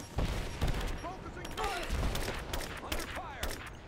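Bursts of gunfire in the video game Rise of the Tomb Raider, with several rapid shots and repeated volleys over a busy game soundscape, at moderate loudness.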